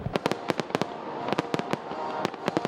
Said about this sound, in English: The fair wraps up with its grand finale custom fireworks display.